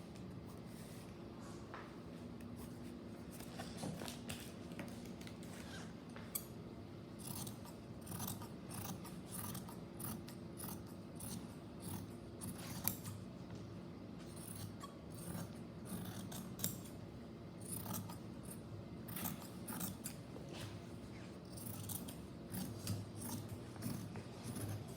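Scissors snip repeatedly through fabric pieces for a face mask, crisp metallic cuts in irregular bursts close to the microphone over a low background hum.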